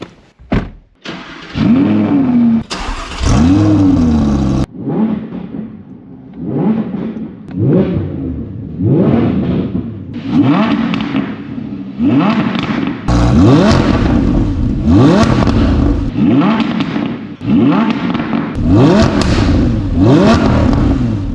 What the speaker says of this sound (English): we need to record the sound level from the new Valvetronic exhaust on this car